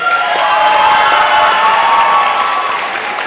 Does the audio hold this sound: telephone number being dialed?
no